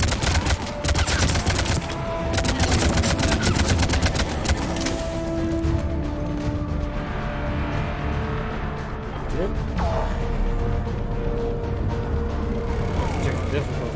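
Rapid gunfire bursts from the shooter game Mass Effect 3 Legendary Edition, loud and dense, layered over continuous rumbling combat noise and mechanical game effects.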